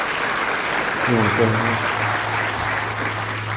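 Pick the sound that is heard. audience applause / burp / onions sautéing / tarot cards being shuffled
audience applause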